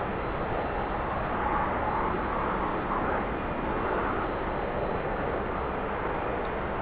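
A T-45 trainer jet's engine spools up under throttle in the DCS flight simulator game, a steady, dense roar with a faint high whine running throughout, heard alone without talk.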